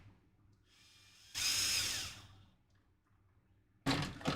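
A power drill-driver runs screws into a model build in two separate bursts. The first is a longer whirring run after a faint lead-in, then a pause, then a second sharp start near the end, all fairly close.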